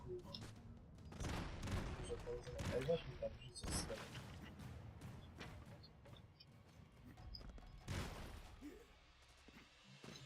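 Rapid gunfire and booming explosions from the video game Broforce, dense and continuous through most of the stretch, with voices talking over the action.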